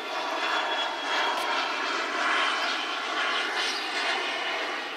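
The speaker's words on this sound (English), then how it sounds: "Wait for the plane to go by." An airplane passes overhead, its engine a steady, loud broadband drone that swells gently and holds for several seconds with no talk.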